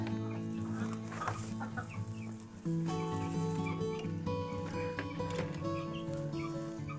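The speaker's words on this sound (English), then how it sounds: "She's been faithfully sitting on her eggs" A broody homestead hen sitting faithfully on her eggs gives soft, low clucks and murmurs, close and quiet, with a steady background hum shifting partway through.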